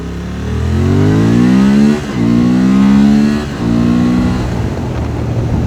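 A Honda Transalp 750 motorcycle engine pulls hard and loud up through the revs, easing off briefly for two gear changes before climbing again, close and steady throughout.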